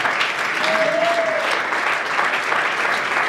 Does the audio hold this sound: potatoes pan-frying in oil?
no